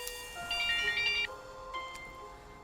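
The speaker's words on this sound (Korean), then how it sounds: "본인이 설정한 벨소리가 아닌 다른 벨소리가 울렸을 때" A phone ringtone from a horror film plays as a melodic electronic tune of bright repeated tones, moderately loud over a faint background hiss.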